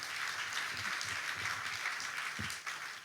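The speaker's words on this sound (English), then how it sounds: "Please, a round of applause for him." A crowd applauds steadily at a chamber of commerce conference, a dense wash of clapping heard from a middling distance with no voices over it.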